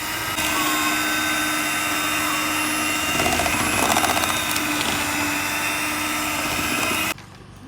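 An electric mixer whisks an egg into creamy vanilla cake batter with a steady, loud motor whine that swells slightly midway, then cuts off abruptly near the end.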